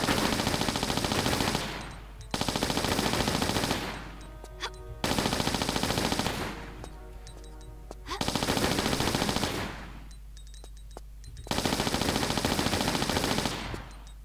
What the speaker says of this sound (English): What happens if I use the Uzis?